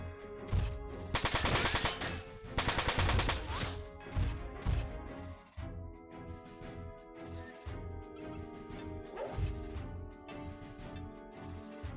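Machine gun bursts from a mech battle in the video game Front Mission 4, loud, rapid broadband rattling in two dense volleys early on, then scattered shots and clatter over a game music bed.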